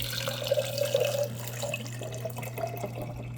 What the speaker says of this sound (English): I'm going to add my water to glass 2 with our egg.